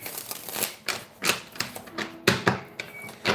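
A Wizard's Tarot card deck being shuffled by hand: a quick series of crisp, close papery clicks and riffles in irregular bursts, with no talking.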